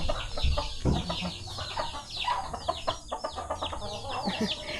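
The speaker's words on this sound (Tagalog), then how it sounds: "Pinapatuka niya yung manok mga maninay." Chickens cluck repeatedly close by, with scattered bird calls and soft background noise, no talking.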